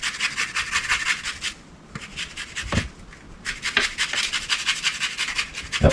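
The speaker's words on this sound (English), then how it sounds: "I'm going to zest about half this orange." An orange being zested on a grater gives steady rhythmic rasping strokes up close, broken by a short pause near the middle before the scraping resumes.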